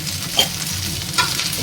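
Two dried red chillies fry in hot oil with a steady, close sizzle, broken by two brief louder stirring scrapes.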